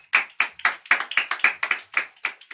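A small audience at an oratory competition claps in sharp, distinct bursts, about a dozen irregular hand claps over a couple of seconds, sounding sparse rather than a full roar.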